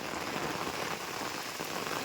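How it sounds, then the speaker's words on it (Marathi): Heavy rain pours steadily onto a farm field in Konkan, a dense, constant hiss of drops with no voices. "आणि आता शेतावर आल्या आल्या मोठा पाऊस आलाय"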